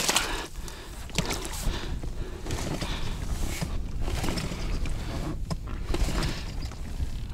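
A small boat moves across the water on a fishing trip, with rhythmic splashing paddle strokes and gurgling water up close.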